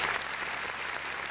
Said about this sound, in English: the crowd even started applauding before I could really get your name out